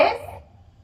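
A single short cough from a patient during respiratory physiotherapy, close and fairly loud, quickly fading into quiet.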